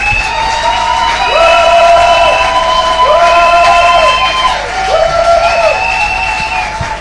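A church congregation cheering and acclaiming God, a loud sustained roar of many voices with long rising and falling shouts and whoops layered together, dense and continuous throughout.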